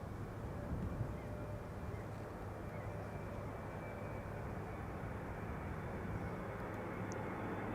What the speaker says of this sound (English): We have a 777 arriving from Vancouver. It is a 777-300 KLM Flight 682